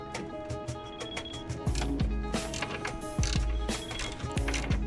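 Ratchet with a 15mm socket working bolts loose in the engine bay of a 2019 Mustang GT California Special, giving rapid close mechanical clicking runs broken by louder metallic clanks and thuds.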